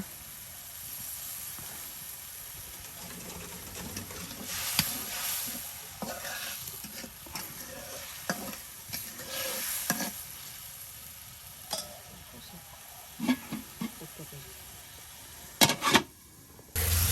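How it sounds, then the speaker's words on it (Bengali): Ground spice paste of onion, garlic and ginger sizzles in a pan with small local fish, a soft steady frying hiss with stirring scrapes and a few sharper clatters near the end, voices faint or absent. "বাটা মশলা দেওয়া হচ্ছে"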